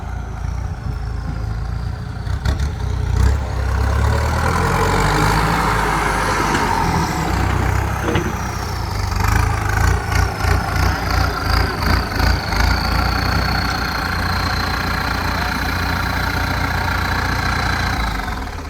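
A heavy diesel tractor engine idles steadily and loudly throughout, with a brief stretch of rhythmic knocking pulses midway.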